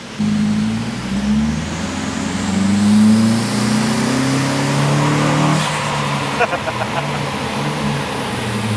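A turbocharged car engine fitted with a cheap eBay turbo revs hard on a dyno during a power run. The loud rising roar climbs steadily, then abruptly cuts out and falls to a rough idle, with voices talking over it.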